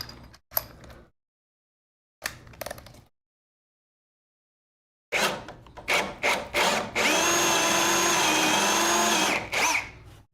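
A power drill countersinks holes in wood for a simulator build, giving short bursts, then a sustained whirring run near the end, up close with silent gaps between.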